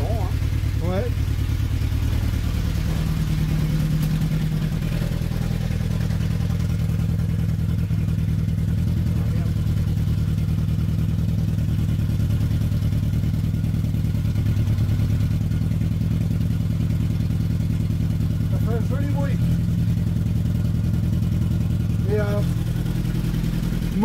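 A Peugeot 205 engine idles fairly steadily at close range, a constant low rumble running the whole way through, with people talking over it now and then.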